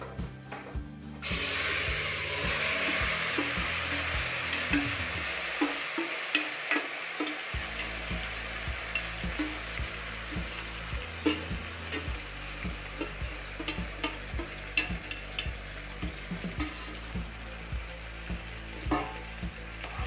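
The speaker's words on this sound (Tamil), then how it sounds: "இதை கொஞ்ச நேரம் அப்படியே ஃப்ரை பண்ணுங்க." Marinated mutton in a little oil in a pressure cooker, frying with a steady hiss and sizzle, broken by repeated scraping and knocking of a spoon as it is stirred, moderately close.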